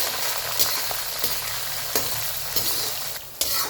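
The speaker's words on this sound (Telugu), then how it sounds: "ఇప్పుడు ఉల్లిగడ్డ వేస్తున్నాను, పచ్చిమిరపకాయలు, కరివేపాకు బాగా ఫ్రై చేసుకోవాలి." Chopped onion, green chillies and curry leaves sizzle steadily in hot oil in a pan, a continuous bright crackle broken by a few sharp scrapes and stirs, close and unaccompanied by talk.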